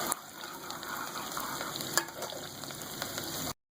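Sliced onions frying in oil in a pan for a spiced potato dish, a steady soft sizzle with faint stirring scrapes, close and fairly quiet.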